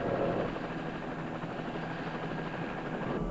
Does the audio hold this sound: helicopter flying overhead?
yes